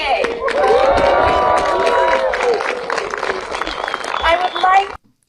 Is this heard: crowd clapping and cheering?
yes